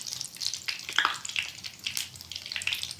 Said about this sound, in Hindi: देखिए अभी ये फ्राई हो रहा है।